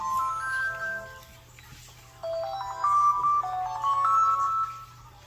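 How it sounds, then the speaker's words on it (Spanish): A telephone ringtone plays a repeating electronic melody during a church sermon, moderately loud and alone, with short pauses between phrases. "Ay, teléfono."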